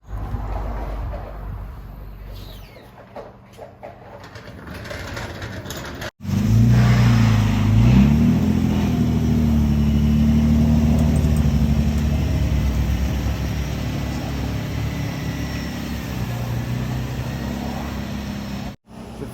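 A Nissan Z car engine, out of the garage for the first time in months before a drift event, fires up abruptly partway through and keeps running loud and close with a steady rough drone after quiet handling noises.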